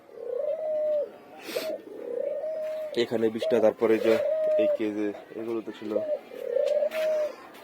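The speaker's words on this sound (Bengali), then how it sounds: "বেশ এক্সট্রা যে কবুতর ছিল যেগুলো দিয়ে আমি ফোস্টারিং করতাম" Several pigeons coo repeatedly in a cage, their soft, rolling calls close and clear, while someone speaks over and between them.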